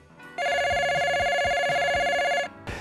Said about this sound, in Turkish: Telefon yine çalıyordu.